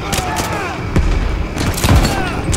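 Heavy booms from a cannon in Call of Duty Vanguard thud out at intervals amid sharper game gunfire, with someone talking over the action.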